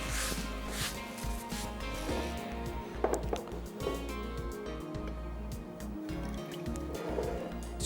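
Water poured into flour for samosa dough, wet splashing and dripping with soft squishy mixing noises, close and steady at moderate level, no talk.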